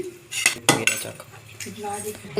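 A spoon scrapes and clinks against a metal pan while onion-laced food is mixed, giving several sharp knocks early and softer scraping after, close and fairly loud, with faint sizzling underneath.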